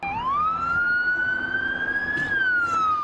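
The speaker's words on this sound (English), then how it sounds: "dozens of police cars, sirens blaring, sped to Villanova" A single police car siren wails loudly and steadily, its pitch climbing smoothly and then dipping, as dozens of police cars race to Villanova University during an active shooter alarm.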